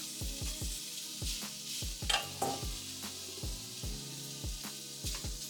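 Beef dropped into a pan over medium heat with minced garlic for Spanish rice. A soft, quiet sizzle sits under a regular rhythm of low thudding scrapes from stirring.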